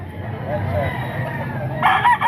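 A rooster at a poultry market crows briefly near the end, loud and close, over a low murmur of background noise.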